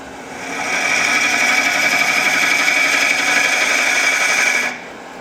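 A wood lathe turns end grain while a ring tool cuts it, giving a steady, loud, continuous hiss and whir. The cutting sound rises at the start, holds evenly for about four seconds, then stops abruptly, with no talking.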